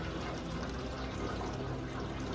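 Water from a tea kettle pours steadily into a bucket of garments set to soak overnight, a continuous close splashing gush with no break.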